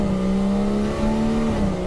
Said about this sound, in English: It's got HKS dump valve on it, and it makes some really great noises.